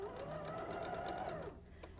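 Sewing machine stitching a quilt seam, a steady fast mechanical whir with rhythmic needle ticks close by, running about a second and a half before slowing and stopping.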